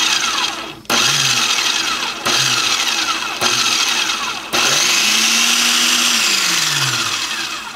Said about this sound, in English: food processor.